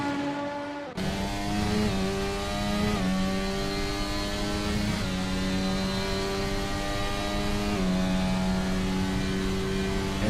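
An onboard race car at Road America, the engine loud and close throughout, revving hard with rising pitch sweeps and sharp drops at each upshift across the lap.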